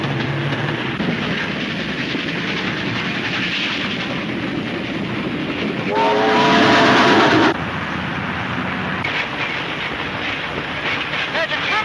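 A train runs steadily with rolling rail noise and clatter, caboose at the rear, and a brief louder burst partway through; voices talk over it.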